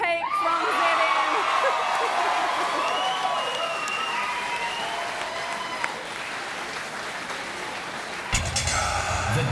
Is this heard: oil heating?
no